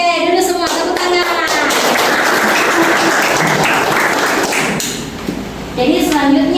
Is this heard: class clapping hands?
yes